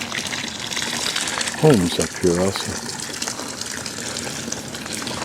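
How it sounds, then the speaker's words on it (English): Water flowing steadily beside a hiking trail near Zurich, a continuous gushing wash heard close by, with a voice speaking briefly over it. "Everywhere the flow of water, all for drinking."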